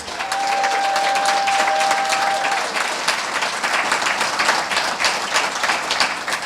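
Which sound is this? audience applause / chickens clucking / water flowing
audience applause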